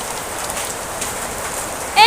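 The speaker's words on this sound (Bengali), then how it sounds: "এখানে কিন্তু শিরা বৃষ্টি পড়ছে।" Hail falls from the sky with steady dense pattering on surfaces outdoors, a constant close rush of tiny impacts lasting the whole stretch.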